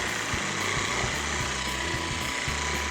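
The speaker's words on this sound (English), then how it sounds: "With today's modern buffing machines, it's almost a foolproof process." A buffing machine polishing car paint gives a steady, close, broadband whir with a low, pulsing rumble underneath, running continuously without pauses.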